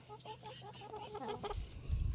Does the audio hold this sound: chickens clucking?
yes